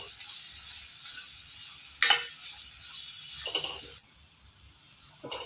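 A ginger, garlic and coconut paste is stirred with okra in a frying pan, giving a soft steady sizzle with a few sharp scraping clinks of the spoon against the pan.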